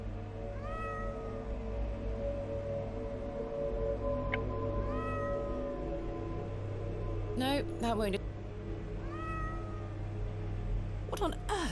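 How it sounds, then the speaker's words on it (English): A cat meows in the video game Hob's Barrow, giving several short, plaintive calls spaced across the stretch over a low steady hum. Brief bursts of other sound cut in, and a voice speaks once. "What on earth are you doing down here, you silly cat?"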